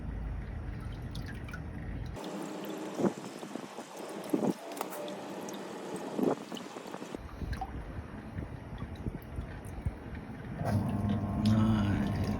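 Water trickles and drips into a pump pit as it fills back up, a faint, uneven patter outdoors with light wind noise and louder splashy gurgles toward the end.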